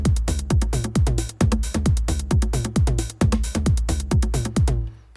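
A Roland MC-101 plays a busy drum pattern of thumping kick, pitched toms, ticking hi-hats and clap, with bongo-like percussion, looping in a steady groove. It is loud and continuous with no speech.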